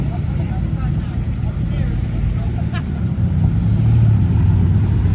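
Ford Escort Cosworth Group A rally car rolling out at a classic car breakfast, a steady low engine rumble throughout, close and loud, with people talking over it.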